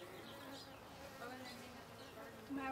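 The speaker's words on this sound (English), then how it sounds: "You just stirred up the bees." Honeybees stirred up while a hive is opened for inspection fill the air with a steady, faint, continuous buzz, and a few louder passes come close by.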